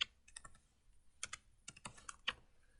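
Someone types on a computer keyboard, entering figures into a spreadsheet, in quiet irregular bursts of close key clicks with short pauses between them.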